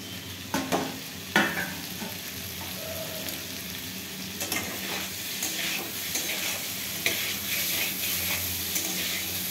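Steady sizzling of bitter gourd and pumpkin frying in a pan, with occasional scraping stirs and clinks, continuous and close.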